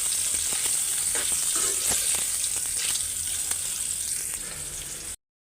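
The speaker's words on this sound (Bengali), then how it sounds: "তেল গরম হয়ে গেছে, ডিমটা আগে ভাইজা নিই।" An egg fries in hot oil seasoned with turmeric and salt, a continuous bright sizzle with faint scraping, steady and close, then cutting off abruptly.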